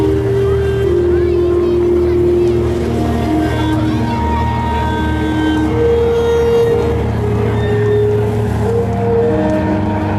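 A World War II PBY-5A Catalina flying boat flies in, its engines making a loud, steady drone with humming tones that slowly shift in pitch as it passes, heard throughout without pause.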